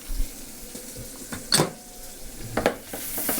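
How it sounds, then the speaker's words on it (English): A tablespoon of shallots goes into hot mutton fat at a cooking demonstration, giving a close, soft sizzle with a couple of brief spattering bursts and light clatter over steady pan hiss. "About a tablespoon of shallots going in here."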